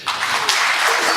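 A hall of teachers applauds at a formal education event, a loud, continuous burst of many hands clapping at once that stays full and steady throughout.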